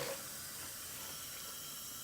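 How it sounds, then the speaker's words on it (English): Warm tap water runs steadily into a sink to rinse dye out of a synthetic wig ponytail, a soft, even, close hiss with no talk. "So I'm gonna rinse this out. I'm gonna use a little warm water"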